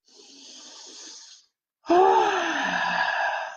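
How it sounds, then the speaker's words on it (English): Slow, audible inhale followed by a longer, louder exhale during a guided tapping exercise, two close, breathy phases separated by a short pause with no talking. "take a deep breath"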